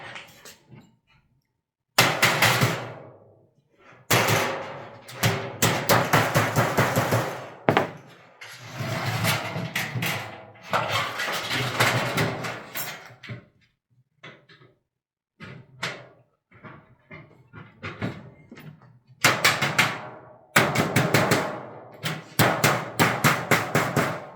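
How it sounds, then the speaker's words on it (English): Sharp, irregular hammer blows strike a concealed sheet metal ductwork fitting for a ductless mini split, loud and close, with bursts of rapid clanging separated by brief pauses. "It's much easier to hammer this down."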